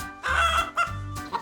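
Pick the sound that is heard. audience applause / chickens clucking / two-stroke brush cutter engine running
chickens clucking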